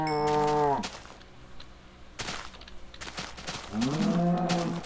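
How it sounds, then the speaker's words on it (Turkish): Two deep, drawn-out cow moos from Minecraft, one at the start and one near the end, with clicking and thumping noises between them. "Aa inek"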